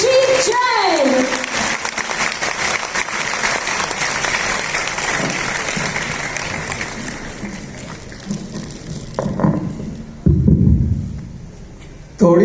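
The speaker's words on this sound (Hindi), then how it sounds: "एक बार फिर जोरदार तालियां हो जाए for Mr. Sujit Jain" Loud audience applause for a speaker at a Netsurf business event in Ahmedabad, sustained crowd clapping that fades after several seconds amid voices, with a brief resurgence of cheering and clapping near the end.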